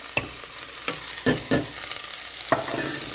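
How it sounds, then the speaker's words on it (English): Steady sizzling of thinly chopped onion frying in hot oil for biryani, with a few clacks of a utensil stirring the pan, close up and no voices. "So now this one I'm going to fry till it gets cooked."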